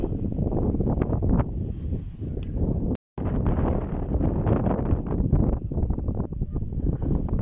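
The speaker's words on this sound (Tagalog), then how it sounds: "Lalo mas malakas ang hangin dito." Strong wind blasting against the microphone in a loud, rumbling roar at Malico, San Nicolas, Pangasinan, broken by a brief moment of silence partway through.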